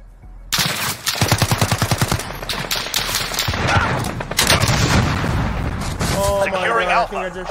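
Rapid automatic gunfire with booming shots from Call of Duty Modern Warfare plays loud and close in long sustained bursts, and a voice talks over it.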